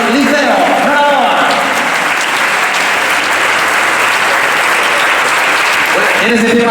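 Loud, sustained applause from a gala audience honouring swimmer María de Valdés of Club Náutico Liceo at the 2024 Galician Swimming Federation awards, dense clapping filling the whole stretch with a voice briefly audible at the edges.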